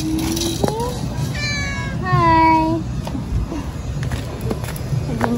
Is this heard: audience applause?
no